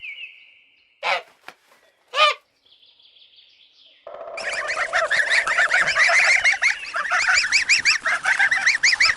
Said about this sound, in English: Gosling.